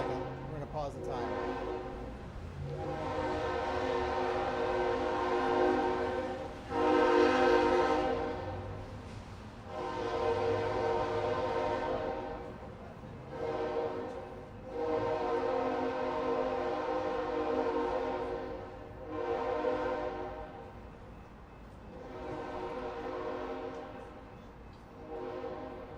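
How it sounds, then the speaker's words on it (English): A train passes by at length, its horn sounding in long, loud, harmonic blasts repeated several times over a steady rumble, reaching a public mayoral debate venue in Portland, Oregon, with faint voices underneath. "Mr. Gonzalez, let's let the train pass by here for a second"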